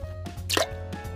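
Juice drips from a container in a few soft plops, with one louder wet drop in the middle over a faint steady hum.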